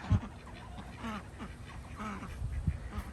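Ducks in an enclosure quack close by, giving a string of nasal calls over outdoor background noise with a few soft thumps.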